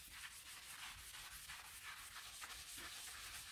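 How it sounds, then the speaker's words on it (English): A scotch pad scrubs rhythmically across a grimy slate clock, quiet repeated rasping strokes that are close and faint. "I'm also going to use a little bit of this scotch pad just to see if I can get a bit more grime off of this."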